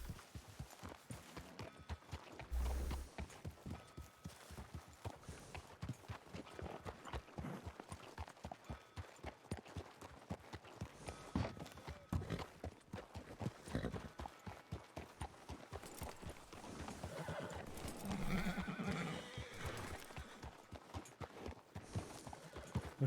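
Horse hooves in a video game, a steady clip-clop gait running quietly throughout, with a brief neigh near the end.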